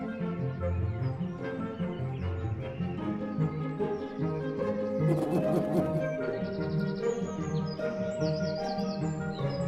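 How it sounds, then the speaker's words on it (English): Small high chirps from baby birds repeat over a busy, layered backdrop of cartoon music and effects, steady and fairly loud throughout. "I hear baby birds."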